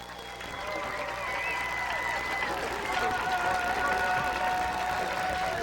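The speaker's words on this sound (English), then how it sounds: "the Thunder ladies jog out to the far side of the field to receive applause from the fans" Fans at a women's college soccer match applaud and cheer from the stands after a victory, a distant, steady wash of crowd noise and clapping heard under a commentator's voice.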